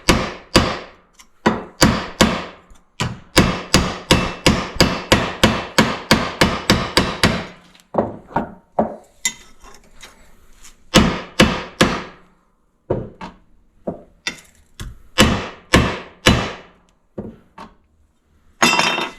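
A bent metal bracket for Jeep YJ rock lights hammered flat on a small anvil: loud, sharp ringing strikes in rapid bursts, a fast run of about two dozen blows, then slower spaced hits with pauses.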